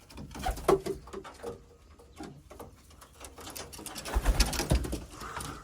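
Racing pigeons in a loft coo softly in several low, rounded bursts amid faint fluttering and shuffling, with a louder cluster of calls near the end.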